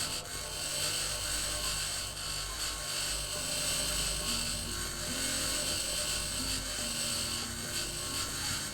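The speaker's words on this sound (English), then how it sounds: "you're gonna want to get the grinder out, which is number 4 in your hotbar. Hold down your left click." A grinder tool whines steadily in Occupy Mars, a high buzzing mechanical drone with grinding and ratcheting tones running continuously at close range.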